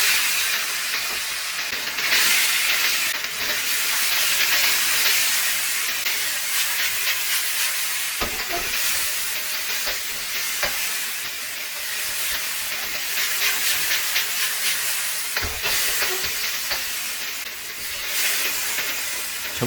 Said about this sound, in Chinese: 我们来炒肉丝